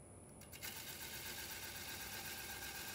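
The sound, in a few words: bowl gouge rounding over wood on a lathe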